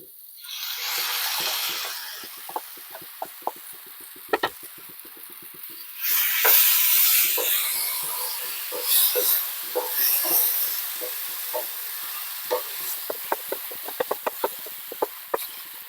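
Marinated mushrooms frying in a pan for a gravy, a steady loud hiss and sizzle that swells when stirred, with scattered small crackles and spatula taps; no talking.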